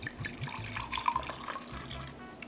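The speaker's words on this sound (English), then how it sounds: "I am going to go ahead and measure out 1/4 cup of dry white wine to put in at the end, and a cup for me." Dry white wine pours steadily into a measuring cup in a home kitchen, a continuous close splashing trickle with no talking.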